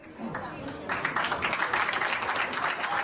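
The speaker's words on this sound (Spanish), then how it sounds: "Ahí llegaba Alberto Fernández a esa sala, aplaudido" Applause fills the Spanish Congress of Deputies as Alberto Fernández enters the chamber, with sustained clapping swelling after about a second and voices mixed into the crowd noise.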